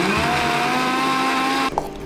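A mixer grinder blends roasted gram dal, peanuts, salt and water for chutney with a loud, continuous whirring motor hum, then briefly shifts as it stops or changes speed near the end.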